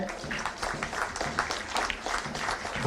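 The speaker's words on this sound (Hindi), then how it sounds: "जोरदार तालियों से अभिनंदन करें" Crowd at a police passing-out parade applauds with a steady patter of many hands, moderately loud and slightly distant, continuing throughout with faint voices beneath.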